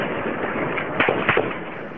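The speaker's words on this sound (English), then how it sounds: "Then the sound of gunfire and explosions ring out across the square." Two sharp bursts like gunshots or blasts cut through a loud, continuous crowd roar of protesters in a square in Tripoli, about a third of a second apart, echoing in the open.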